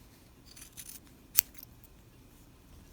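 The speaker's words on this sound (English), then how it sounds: "we trim out the seam allowance on the buttonhole" Scissors trimming the seam allowance on a fabric buttonhole for a piped pocket, a single crisp near snip standing out against quiet room background, with faint handling rustles around it.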